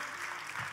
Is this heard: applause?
yes